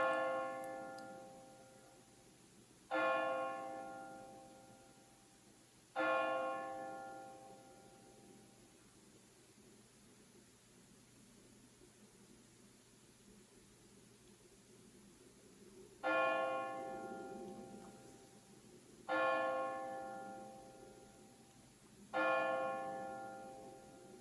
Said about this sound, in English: So this is the sound of the bell with the program number 813.